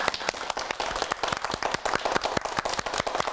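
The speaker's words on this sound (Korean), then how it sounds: "오늘 강의해 주신 송혜령 선생님께 박수 부탁드립니다" Studio audience applauds a lecturer at the close of a Korean talk-show segment on midlife re-employment, dense steady clapping from many hands, fairly near and continuous throughout.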